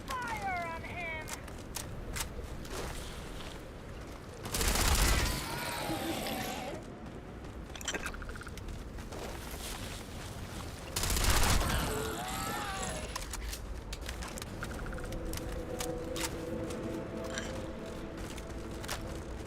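Sci-fi gunfire rattles through a firefight in the video game Starfield, with two loud broadband bursts standing out against a busy backdrop of combat effects and ongoing voices talking.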